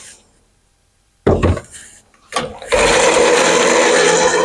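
Electric hand mixer mashing potatoes with added milk, starting on low speed: a short burst and a pause, then a steady loud whirring drone that runs continuously to the end.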